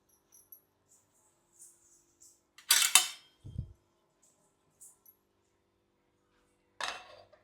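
A lid is set on a clay pot of simmering egg curry with a sharp clatter and a dull knock, surrounded by a few faint clinks in an otherwise quiet kitchen.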